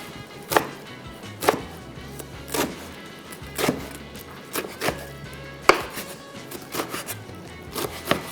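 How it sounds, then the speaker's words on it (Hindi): A knife chops pieces of Chinese cabbage into smaller bits on a board, giving sharp, evenly spaced knocks about once a second, close and clear with no talk. "ये चाइनीज़ कैबेज के पीसेस आ गए। सबसे पहला काम हम करेंगे, इस पीसेस को थोड़ा सा छोटे साइज़ में काटेंगे"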